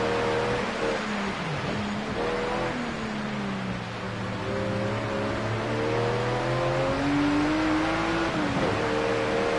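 A race car engine in Project Cars 2 on a wet, flooded track, revving up and down through rising and falling pitch sweeps with gear shifts, loud and continuous throughout.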